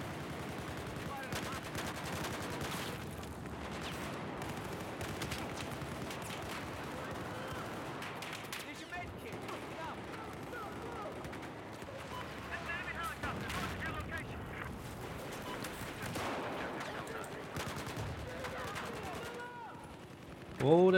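A tank fires amid heavy battle on the Siege of Shanghai map in Battlefield 4: dense bursts of gunfire and booming blasts roll on continuously, loud and chaotic, with a sharp louder hit at the very end.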